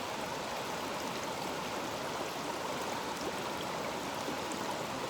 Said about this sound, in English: just the river as it meanders its way down